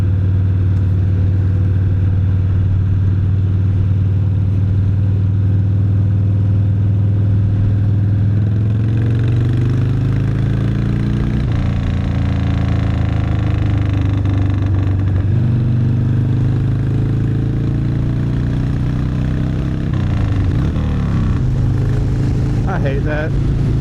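Harley Sportster 1250 big bore motorcycle engine rumbling steadily while riding, with rev changes and gear shifts partway through, loud and close, a voice talking over it.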